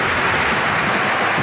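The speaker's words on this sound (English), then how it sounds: "The crowd really appreciating that point." A table tennis crowd breaks into sustained, dense applause after a long rally at the ITTF World Championships 2019, a steady wash of clapping with no voices over it.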